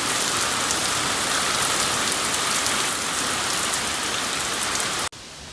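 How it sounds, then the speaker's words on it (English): Steady heavy rain pours down outdoors after a hurricane, a dense, even hiss of drops drumming on surfaces that stays loud throughout before cutting off abruptly near the end. "It's been raining like this."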